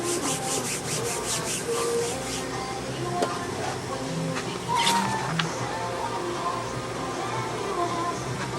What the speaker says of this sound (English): Use your heat eraser.